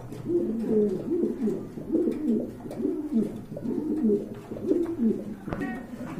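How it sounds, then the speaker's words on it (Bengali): Pigeons kept for breeding coo repeatedly, close by, in deep rhythmic phrases that overlap. Faint talk sits underneath. "এখানে কিন্তু আরেক জোড়া কবুতর দেখছেন"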